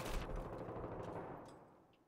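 Rapid gunfire from a teammate in the Battlefield 3 campaign, a dense burst of automatic shots at close range that fades out over about two seconds.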